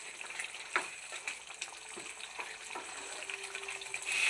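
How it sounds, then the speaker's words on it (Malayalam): Ground coconut is stirred into a simmering masala curry for a Kerala sadya, a soft bubbling sizzle with light spoon scrapes and clicks against the pan, fairly quiet and close. "ഇതിലേക്ക് നമ്മൾ അരച്ച് വെച്ച തേങ്ങ ഒഴിച്ചു കൊടുക്കാം. നന്നായിട്ട് ഇളക്കി മിക്സ് ചെയ്ത് കൊടുക്കാം."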